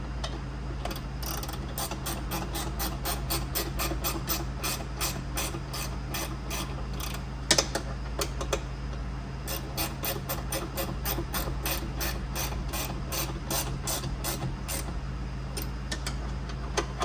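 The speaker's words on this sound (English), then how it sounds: "start tightening it all down" A hand ratchet clicks in quick regular runs, tightening bolts on a Polaris sun visor on a Ranger XD 1500 utility vehicle. The close, crisp clicking pauses briefly now and then, with one sharper knock partway through.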